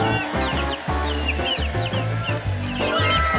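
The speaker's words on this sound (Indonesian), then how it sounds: "Siapa kira ayam mungil bisa seimut ini?" A small chicken clucking loudly and continuously at close range, busy chattering calls with no talk over them.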